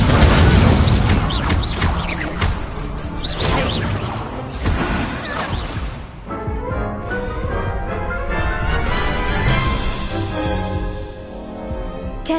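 Incendio fire spell in Hogwarts Legacy, a loud roaring burst with booming impacts and whooshes that fades into quieter tonal game sounds and lingering crackle.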